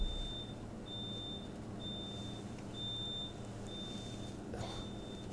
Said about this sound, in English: That was an alarm going off in the lab.